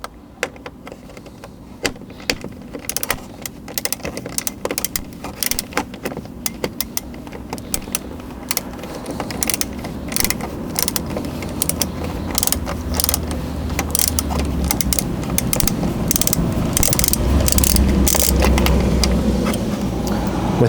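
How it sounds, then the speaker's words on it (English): A ratchet clicks rapidly and repeatedly, close up, while a 10mm bolt is backed out of interior trim on a 2016-2021 Toyota Land Cruiser, the clicking growing busier and louder toward the end. "Once again, we're going to have a 10mm bolt to remove right there."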